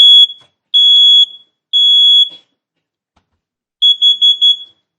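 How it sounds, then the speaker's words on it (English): A smoke alarm with its test button held down sounds a loud, piercing tone: three long beeps, a pause, then a quick burst of four short beeps, heard alone and close. "if you hold it long enough, it'll do a quick test like this"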